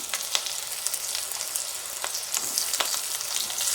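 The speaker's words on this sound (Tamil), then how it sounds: "நறுக்கி வச்சுருக்கிற வெங்காயத்தை சேர்த்துக்கிறேன்." Chopped onions sizzling in hot frying oil with green chillies for paruppu urundai kulambu, a steady close crackling hiss with occasional sharper pops and faint stirring, no talk.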